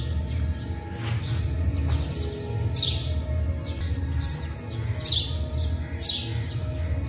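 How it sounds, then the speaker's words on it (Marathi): Sparrows chirp in short bright bursts outdoors, several calls spaced across the clip over a steady low rumble of background noise. "चिमणी बघू शकता तुम्ही."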